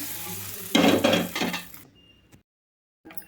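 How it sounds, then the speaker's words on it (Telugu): Hot tempering with curry leaves is poured into a chutney, giving a loud sudden sizzle that crackles in a few surges for about a second before quickly dying away into silence, followed by a faint clatter. "పోపు మొత్తాన్ని అయితే దీంట్లో చట్నీలోకి అయితే వేసుకున్నాము"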